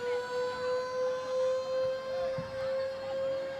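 Fire engine siren in a Fourth of July summer parade, a sustained steady wail holding one pitch with a pulsing rise and fall, clear and moderately loud, with faint background voices.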